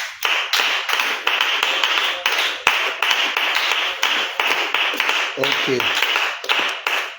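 A church congregation claps in steady, rhythmic unison to acclaim God during a worship service. The sharp claps are loud and continuous throughout, with a brief spoken word partway through.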